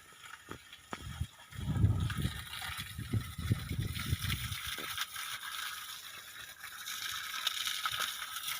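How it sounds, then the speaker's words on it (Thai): Water gushes from a solar-powered submersible pump run by four monocrystalline panels during a test fill toward a tank, a steady broadband rush with scattered low knocks and rattles, fairly close and continuous. "น้ำไหลมา"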